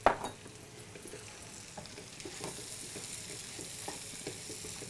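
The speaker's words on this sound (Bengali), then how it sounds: "পেঁয়াজ বেরেস্তাটাও দিয়ে দিচ্ছি" Fried onion crisps tipped into a sizzling pot of mutton aloo gosht and stirred, steady frying hiss with scattered scraping clinks of the spoon against the pot, a sharper clatter at the start.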